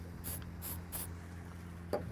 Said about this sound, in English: Just a quick spray